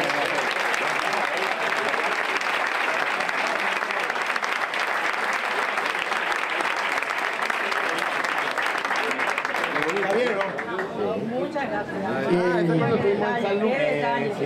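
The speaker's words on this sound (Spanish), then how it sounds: "Un aplauso," An audience at a Spanish afternoon variety show breaks into sustained applause that runs loud and dense for about ten seconds. It then thins out and gives way to a voice and a murmur of chatter.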